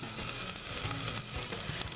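Cherry tomatoes fry in a pan for a curry chicken pasta, giving a dense, continuous sizzle and crackle at steady volume, close up, with no talk.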